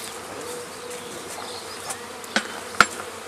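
A honeybee swarm buzzing around a hive outdoors, a steady, soft, continuous drone, with a couple of sharp knocks near the end.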